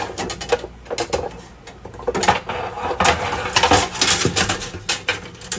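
A metal muffin tin clatters and clanks as it is handled on a counter, with a rapid run of sharp metallic knocks and rattles close by, no talking.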